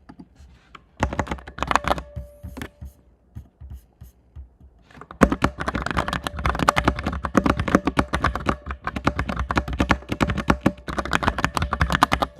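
Close, crisp computer-keyboard typing in rapid bursts, sparse at first, pausing briefly, then turning dense and continuous.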